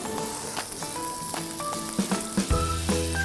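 Marinated chicken fillet laid skin-side down on a plancha over low heat sizzles and crackles steadily, close and moderately loud, with a few sharper pops near the end.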